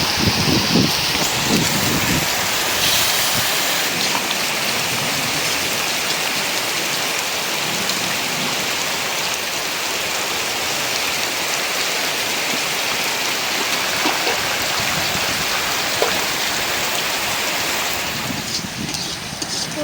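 Steady, heavy rain pours down without pause, a dense hiss with occasional gusts of wind, and no voices.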